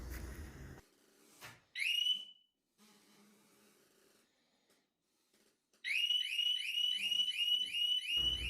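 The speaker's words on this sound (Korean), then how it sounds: "먼저 두 번 경고음이 들린 후에 본격적으로 경보기가 작동됩니다" A Harley-Davidson Street Bob 114 motorcycle alarm gives a short warning chirp, falls quiet, and then breaks into a loud, repeating warbling siren that rises and falls in a fast rhythm, close up and without voices.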